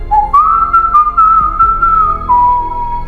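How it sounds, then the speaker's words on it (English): A lone whistled melody, clear and close, slides up then holds long sustained notes before dropping to a lower tone, with faint low sound underneath. "Jack hears the stranger whistling an eerie tune, which sends shivers down his spine"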